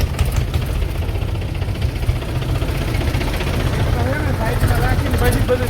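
A tractor engine runs steadily nearby, a loud continuous low rumble and chug that persists throughout, with some voices faintly underneath.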